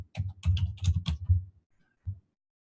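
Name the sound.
typing a street address on a computer keyboard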